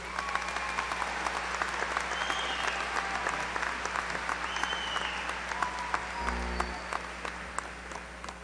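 Audience at a university spring commencement applauding graduates, steady crowd clapping in a large hall that continues throughout and slowly thins toward the end.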